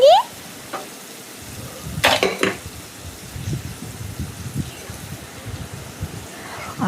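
Prawn curry masala being sautéed and stirred in a pan for a roasted-coconut prawn curry, a soft sizzle under repeated scraping of a spoon against the pan, with a brief clatter early on.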